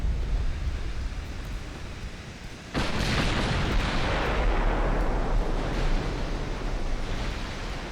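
Ship cannon gunfire in the naval battle game Shipyard Champions, a single heavy booming blast that erupts partway through and rolls out into a long rumble over a constant wash of ocean-like noise.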